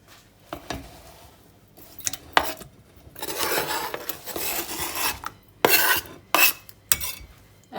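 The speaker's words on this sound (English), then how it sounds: "I'm going to grate up using the larger side of the grater, about 1 cup of cheese." Tasty cheese rubbed against the large-hole side of a box grater: bursts of rough rasping strokes, close and fairly loud, with short pauses and a few sharp scrapes between runs, no voice.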